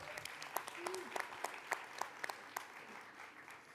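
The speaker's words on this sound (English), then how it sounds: "Can you give him a round of applause," At a men's health panel discussion in Cleveland, a small audience claps for City Council President Blaine Griffin, a thin scatter of distinct, sharp hand claps spaced out over a few seconds, fairly faint and unsteady rather than a full ovation.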